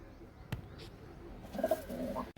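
A pigeon's soft, low cooing rises in the last second after a single sharp knock, set against a quiet background.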